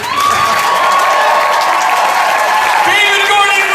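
Audience clapping and cheering inside a theater at the Halloween world premiere, a steady dense wash of applause filling the whole stretch, with a voice calling out over the crowd near the end.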